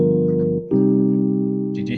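Piano chords ring out in a minor key, a sustained voicing that cuts off briefly and is struck again as a new chord, alone and fairly loud with no talking.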